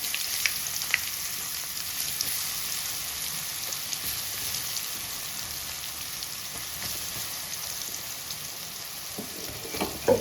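Bitter gourd frying in a pan with oil, mustard seeds and curry leaves, a steady close hiss and sizzle with faint crackles, unbroken and without talk.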